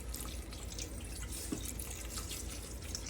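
Red wine is poured into a pan for a classic French dish with cooked onions, making a steady, continuous liquid pour with no pauses and no talking.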